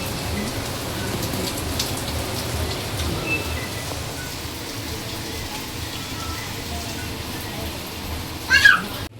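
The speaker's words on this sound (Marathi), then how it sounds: "पाऊस काय येतोय." Steady rain hisses throughout as a dense, even wash of noise, with a brief louder chirp or squeak near the end.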